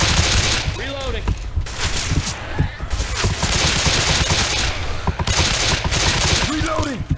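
Rapid gunfire from a zombie-shooting session in Left 4 Dead 2's Dead Center mall chapter, dense bursts of shots running nearly continuously with game effects and brief voice lines mixed in.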